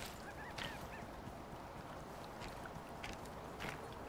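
Moa birds in the video game Icarus give honking, goose-like calls, a few faint bursts scattered over a steady outdoor ambience with no talking.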